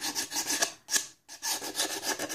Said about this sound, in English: And the sandpaper is gonna be easier because it's bigger.